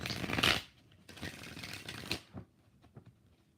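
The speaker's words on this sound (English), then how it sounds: "What does the universe need Liz to know right now? 5 shuffles" Tarot cards are shuffled by hand in quick riffling bursts. Two main bursts are followed by a few lighter taps and flicks, close and fairly quiet, with no talking.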